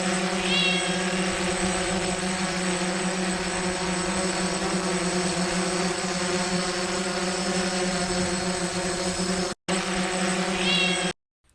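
A small drone with a cat riding on it hums steadily in an AI-generated scene, a loud continuous rotor drone with constant pitch that runs unbroken for about ten seconds, with faint meows near the start and end.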